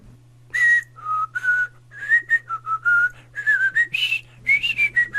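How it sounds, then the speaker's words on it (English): A person whistles a tune, clear melodic phrases of rising and falling notes separated by short breaths, close and prominent over a faint steady low hum, with no talk. "Scott whistled the song to the dragon."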